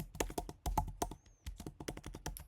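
Rapid, uneven keystrokes on a computer keyboard while entering .NET SDK command-line tool commands, close and fairly quiet, with short pauses between bursts of typing.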